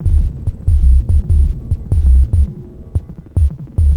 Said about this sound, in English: I'm going to make some random percussive sounds using this Dreadbox synth.